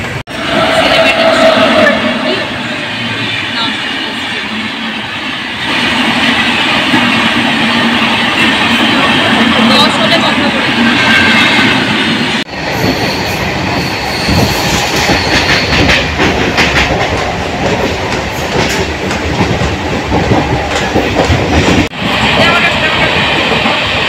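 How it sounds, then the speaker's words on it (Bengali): Nearly empty morning passenger train running past Dankuni, with steady rumbling wheel-on-rail noise and rhythmic clickety-clack throughout, loud and close from inside the carriage, with a brief dip midway. "ট্রেন ছেড়ে দিয়েছে, একদম ডট 5:03 ছেড়েছে পুরো।"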